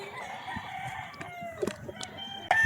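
An Elevator Kelso gamecock stag crows nearby on a game farm, a single drawn-out call with some clucking and other fowl faintly around it.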